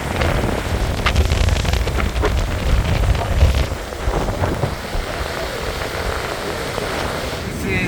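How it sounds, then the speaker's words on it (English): Strong wind roaring from Hurricane Erick with a rough, churning sea at Huatulco, Mexico; a loud, steady broadband rush with gusting swells throughout, no talk heard. "It is very windy and very rough."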